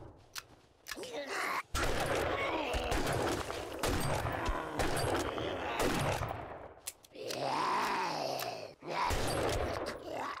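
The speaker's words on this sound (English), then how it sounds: "We don't need to scope when they're this close," Close-range gunfire in the video game 7 Days to Die: a rapid series of sharp gunshots against enemies, with grunts and groans mixed in and a player talking over parts of it.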